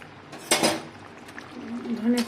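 A spoon clinks and scrapes in a pot as coriander leaves are stirred into simmering chicken curry with potatoes, one sharp knock followed by softer scraping, with a voice speaking briefly near the end.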